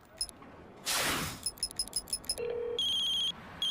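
A telephone ringtone sounds in bursts of bright electronic tones, opening with a short pattern, then a glassy clatter, a quick series of beeps and a long sustained ring, loud and close.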